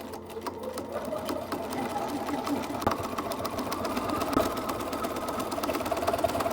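A sewing machine topstitches a seam a quarter inch from the edge on a fantasy tabard costume, a steady close mechanical whirr with a fast needle rhythm running continuously throughout.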